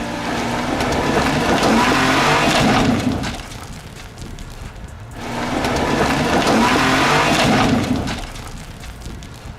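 An SUV engine strains and roars under load climbing a hill in two long surges separated by a quieter dip as the driver eases off the gas, with gravelly crunching of tires throughout.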